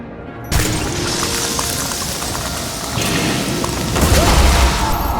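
Gunfire and explosions of a shootout in the video game Nobody Wants to Die: dense, loud, continuous booming and crackling that starts abruptly and swells in heavier bursts toward the end.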